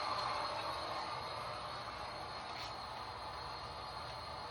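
Model trains running on a home layout with up to four trains at once, including an O&R work train, give a steady, faint rolling hum and hiss throughout, with no voices.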